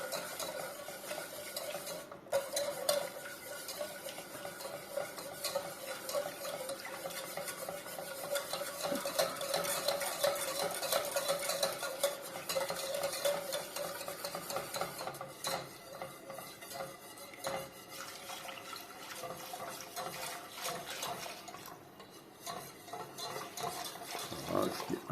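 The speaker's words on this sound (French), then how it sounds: "je vais mettre petit à petit mon litre de bouillon. J'étends bien la farine." A spoon keeps scraping and stirring a flour roux in a pot as a litre of broth is added little by little, a continuous close clatter with faint sizzling throughout.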